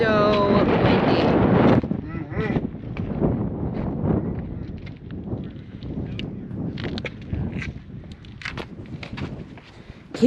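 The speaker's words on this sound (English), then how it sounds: "It is so windy." Strong wind gusts roar against the microphone on the Kaibab Trail in the Grand Canyon, a steady low rumble that persists throughout, with a person talking over it at the start and footsteps faintly audible.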